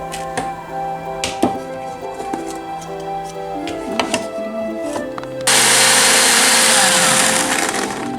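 A kitchen blender grinds spice paste for yellow oyster stew, bursting into a loud, dense whirring roar midway after several seconds of quieter clattering and clinks, then running steadily to the end.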